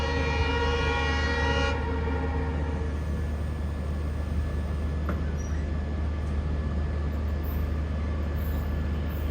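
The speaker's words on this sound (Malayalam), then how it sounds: "ഇപ്പോൾ ഒരു ട്രെയിൻ വരുന്നത് കാണാം. കോയമ്പത്തൂരിൽ നിന്ന് സിൽച്ചറിലേക്ക് ഒന്ന് എക്സ്പ്രസ്," A Coimbatore–Silchar express train approaching a station sounds a loud sustained horn blast, then a steady, fairly close rolling rumble carries on after the horn cuts off.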